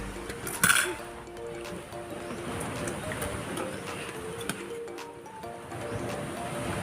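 Drinking glasses clink together once, sharp and close, as they are gathered for children's meal at a provincial home, then light rustling and faint background voices and music continue underneath.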